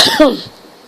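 A single short, sharp cough close to the microphone, followed by near silence.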